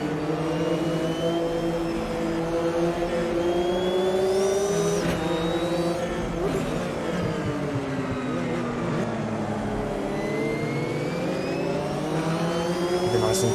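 A race car engine in the racing game Automobilista 2, lapping Kyalami among a pack of Porsches: a loud, steady engine drone runs throughout, its pitch rising and falling as the throttle eases off and gear changes come and go.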